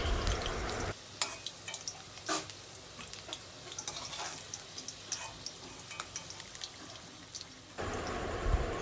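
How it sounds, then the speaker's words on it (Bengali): Potato pieces lifted one at a time out of hot frying oil during home cooking of an egg dish, a steady close crackling sizzle with brief scraping clicks as the pieces are picked out, no talk. "আলুও আমাদের ভাজা কমপ্লিট হয়ে গেছে এবার একটা একটা করে আলুগুলো তুলে নিচ্ছি"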